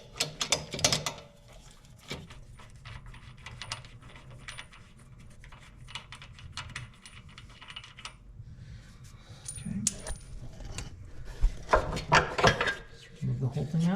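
A ratchet wrench with a 9/16 inch socket works on the air spring of a 1995 Honda Goldwing trike, making quick clicking bursts and metallic taps between stretches of talk.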